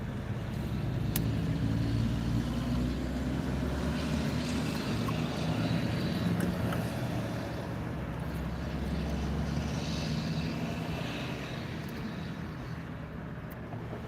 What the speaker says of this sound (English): That's a milk truck making all that noise.